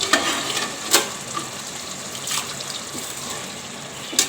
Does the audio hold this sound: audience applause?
no